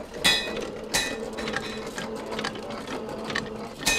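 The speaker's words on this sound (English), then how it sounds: "So we'll be using our Marvel draw cut saw here." A Marvel draw cut saw cuts through a steel bar in a blacksmith shop, giving a steady, rhythmic mechanical clatter and whir, close and continuous with periodic louder strokes.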